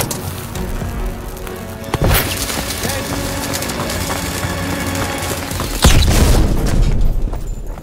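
A thermite charge detonates in Call of Duty WWII on PC, two heavy booms hitting near and loud over a dense bed of battlefield rumble and scattered crackle.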